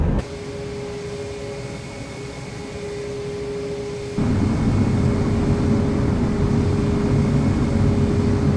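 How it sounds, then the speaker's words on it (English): Landing gear lowering on a Toliss Airbus A321neo in the X-Plane 11 flight simulator: a steady cockpit hum under engine drone, joined midway by a louder broadband rumble that holds to the end, with no talk. "we're going to go ahead and lower the landing gear"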